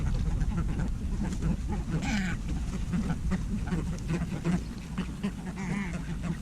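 Ducks and geese at a lake during feeding, scattered quacks and honks over a busy outdoor background with a low rumble, a few calls standing out clearly.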